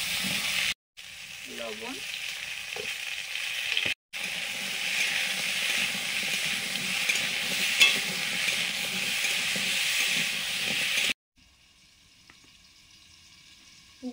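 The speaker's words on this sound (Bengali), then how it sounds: "ছোলা কচু আর আলুগুলো ভেজে নিচ্ছি" Taro stems and potatoes fry in a pan with a steady broadband sizzle and occasional stirring, interrupted by brief gaps and then falling quiet near the end; a voice speaks briefly.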